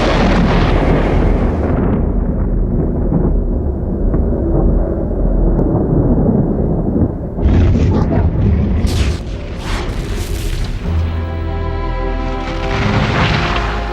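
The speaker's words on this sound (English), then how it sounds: "a thunderstorm" Thunder from a tropical wet-season thunderstorm near Darwin, Australia: long, loud rolling rumbles and booms that swell and fade over about fourteen seconds, with sharper cracks toward the end.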